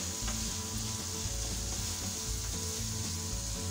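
Chopped tomatoes added to fried minced meat sizzle steadily in a pan, a continuous soft crackle with occasional scraping stirs, close and alone.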